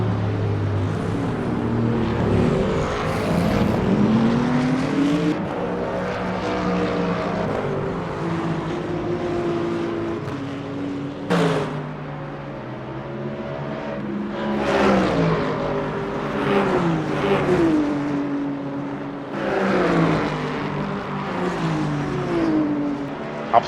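GT3 race cars lapping Spa in Le Mans Ultimate: a steady engine drone that rises and falls through the gears as the cars chase in a slipstream, with sharp shift blips. Continuous and fairly loud, with no voices.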